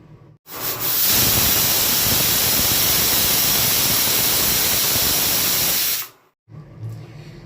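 A pressure cooker holding whole potatoes vents a loud, steady hiss of steam for about five seconds, starting and stopping abruptly, with faint kitchen sounds on either side.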